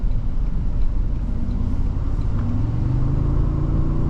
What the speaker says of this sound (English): this hybrid turbo V6 sounds pretty awesome too.